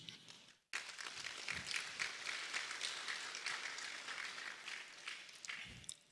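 A room erupts into sustained applause for 2026 laureates at a Ghanaian arts award ceremony, dense clapping starting abruptly after a short lull and holding steady at moderate volume.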